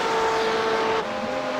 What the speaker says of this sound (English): So Walsh will be the last car to cross the line, coasting to the line